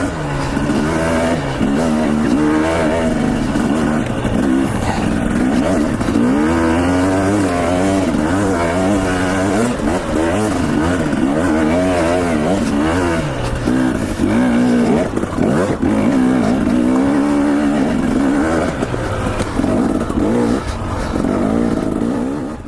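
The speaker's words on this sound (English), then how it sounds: "the bike is just gutting it out up this hill" A 250XC dirt bike engine strains up a hill, roaring loud and close without letup, its pitch wavering as the throttle works the whole way.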